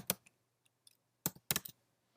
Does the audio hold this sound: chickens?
no